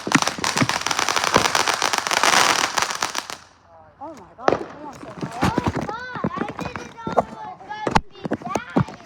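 Fourth of July fireworks bursting loudly at close range, a dense crackling barrage for the first few seconds followed by scattered sharp bangs and pops, with people talking and exclaiming between the blasts.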